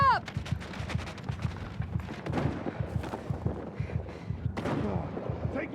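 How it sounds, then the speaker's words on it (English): Rapid gunfire in the Battlefield 6 campaign mission The Rock: dense bursts of automatic shots crackle over and over, with heavier booms mixed in and faint battle chatter beneath the steady firefight. "Taking heavy fire."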